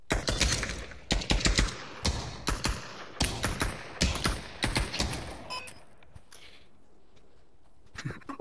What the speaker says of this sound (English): Who's shooting me with those guns?